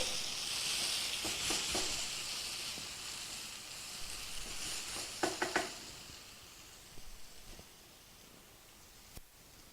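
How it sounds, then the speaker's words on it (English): Potatoes frying in a pan and being stirred, a soft continuous sizzle with scattered scraping and clinking bursts from a utensil, fading quieter toward the end. "So stir the potatoes for a while."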